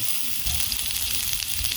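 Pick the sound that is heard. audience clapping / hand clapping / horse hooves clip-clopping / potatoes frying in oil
potatoes frying in oil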